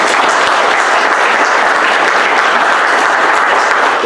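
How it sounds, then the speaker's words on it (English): Loud, dense applause from a sizable audience fills the whole stretch without a break, steady clapping with no voices standing out. "let's give Dr. James Pratt another applause"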